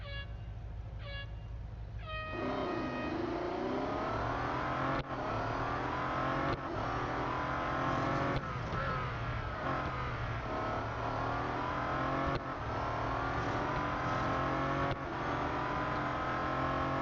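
A Bentley Continental GT Speed racing head to head on the Nürburgring short track in Real Racing 3, its engine revving and shifting through rising and falling pitch sweeps, loud and continuous after a brief opening tone.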